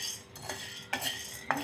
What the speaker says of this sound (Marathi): मी कढईमध्ये 2 चम्मच साबुदाणा घातला. हे आपल्याला मीडियम गॅसवर भाजून घ्यायचं आहे.